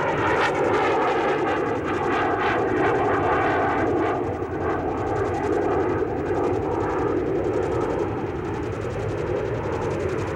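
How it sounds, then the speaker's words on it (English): Space Shuttle Columbia rolling out after landing at the end of the STS-9 mission, a loud continuous roar of engine and wind noise that holds steady throughout, with faint pulsing undertones and no voices. "Nose down at 10:07:47:41. And STS-9 is home from the longest shuttle mission to date."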